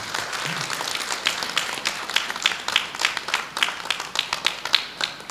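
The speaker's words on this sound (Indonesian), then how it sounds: "beri hormat dan tepuk tangan yang meriah untuk para orang tua." Students at a university capping and pledge ceremony applaud their parents, a lively spread of clapping from a hall full of hands with sharp individual claps standing out, growing fuller and more rhythmic toward the end.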